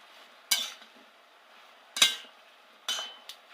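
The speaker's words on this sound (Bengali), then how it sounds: "একটু নেড়ে চেড়ে" A metal spoon clanks against a cooking pot while taro greens and fish heads are stirred with salt, three sharp, close clinks spaced apart with a smaller tap at the end and quiet simmering between.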